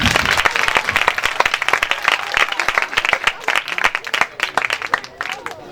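A church congregation at a Christmas sermon bursts into loud, sustained applause, dense clapping that keeps going for several seconds before thinning out slightly toward the end.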